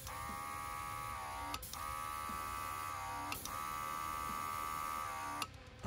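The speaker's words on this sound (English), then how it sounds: "to turn the airbrush on or the compressor on, just push the button" A no-name cordless airbrush compressor runs with a steady, close electric buzz and hum, broken by two brief dips where the motor pitch wavers before it cuts off near the end.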